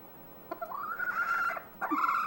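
Pet chicken indoors giving a few drawn-out clucking calls in two bursts separated by a brief pause, close and clear with no talk over it.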